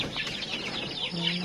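Chickens on a farmyard, with large hens among smaller ones, clucking in short overlapping calls near the listener, a steady stream of busy fowl chatter over a light background.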